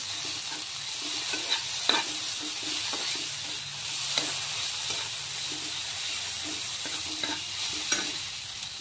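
Semolina fries in a pan while a spoon scrapes and stirs it in repeated strokes over a gentle sizzling hiss, heard close with no voices.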